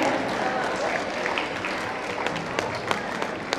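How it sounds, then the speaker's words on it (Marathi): A crowd at a chess tournament prize ceremony claps continuously, a dense patter of many hands with a few sharper individual claps standing out, moderately loud and steady throughout. "आपल्याला टाळ्या वाजवून त्यांचं अभिनंदन करायचं आहे"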